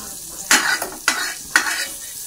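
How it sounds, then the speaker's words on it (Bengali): Carrots frying in butter in a pan, a soft sizzle punctuated by three sharp stirring scrapes about half a second apart, close by, with no voices. "গাজরটা দিয়ে সুন্দর করে একটু ভেজে দেবো, মানে হালকা ফ্রাই করে দেবো"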